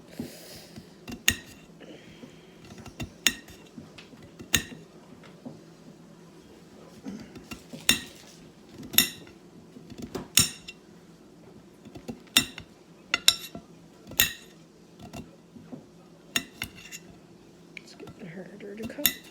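A knife cuts food on a plate, giving irregular sharp clinks and scrapes of cutlery against the dish, spaced unevenly over a quiet room with soft talking now and then.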